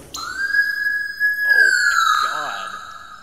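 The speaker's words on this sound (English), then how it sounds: "Turn the sirens on in the garage?" A loud wailing police siren rings out in a video game garage, its sustained tone echoing in the enclosed space, with a voice briefly breaking in partway.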